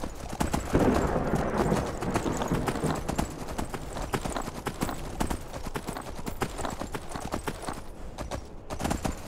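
Horse hooves clip-clop steadily at a riding pace on a path in the Skyrim video game, a continuous close rhythmic trot running throughout with no talk.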